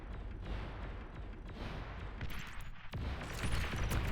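Units called aggravators attacking missile turrets in the strategy game Beyond All Reason make a dense, continuous crackle of rapid gunfire and small blasts, with a louder burst of impacts toward the end.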